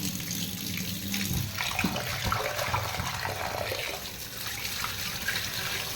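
Velai leaves being washed in a vessel of water, a continuous close splashing and sloshing with small bursts as the leaves are swirled about, with no voices.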